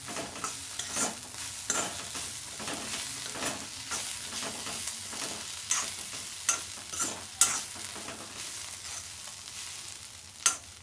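A pan of tender bamboo shoot vegetable with fresh coriander being stirred, the spatula scraping and clattering in a steady rhythm over a continuous soft sizzle, close and alone without talk.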